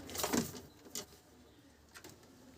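An old-line, top-class Lal jiriya pigeon in Ranaghat gives one close, soft coo near the start, followed by a few faint clicks and quiet background.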